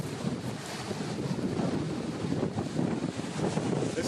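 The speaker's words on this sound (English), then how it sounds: "This is what the ocean down there looks like." Wind roars across the microphone while ocean surf washes against a rocky shore at St. Thomas, a dense, continuous rush with no clear breaks or voices.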